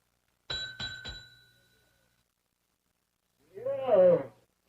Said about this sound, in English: Give that bell a whomp